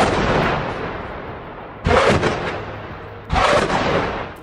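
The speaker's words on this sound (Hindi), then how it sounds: "मुस्तफ़ा ब्रिगेड ने आईडीएफ पर 107 mm वाले रॉकेट फायर किए हैं" 107 mm rockets being fired at a border crossing: a sustained roaring rush, then two sharp blasts that each open another loud, rumbling roar, up close with no voices.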